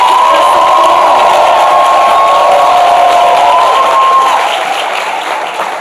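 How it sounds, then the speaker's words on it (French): A studio audience at a midday television show breaks into loud, sustained applause with cheers and whoops, holding steady before easing off slightly toward the end. "On va donc par des applaudissements vous dire au revoir"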